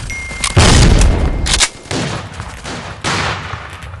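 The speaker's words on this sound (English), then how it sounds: "Throwing a grenade!" A thrown grenade blasts loudly in the Forward Assault shooter game amid bursts of rifle and SMG gunfire, a heavy boom followed by repeated volleys rolling on through the scene.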